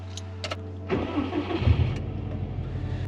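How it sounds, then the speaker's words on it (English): Car engine started for a remote-start demonstration: a steady low hum, a couple of clicks, then the starter cranks and the engine catches into a rough, rising run that settles into a close, steady idle. No talking. "So the first one is we need to start our car up."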